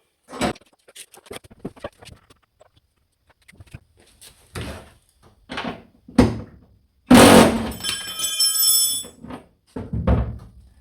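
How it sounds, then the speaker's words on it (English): Metallic clunks and rattles from a nut gobbler loosening a bolt close up, in separate bursts with quiet gaps, ending in a longer whirring, buzzing stretch. "Got the nut gobbler out. We'll see if she'll take this bolt off."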